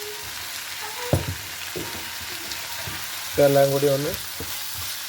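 Garlic honey chicken sauces, including green chilli sauce and dark soy sauce, sautéed in a pan: a steady low sizzle with a few scraping stirs and a louder clatter near the end, while a person talks briefly.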